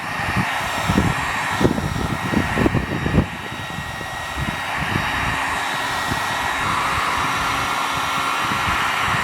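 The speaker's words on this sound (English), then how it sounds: "I'm going to just try to hit it with the heat gun and see what happens." A heat gun blows a steady, loud airflow roar while heating a thick plastic downspout pipe, with a few knocks and handling clatters early on, then an even continuous hiss.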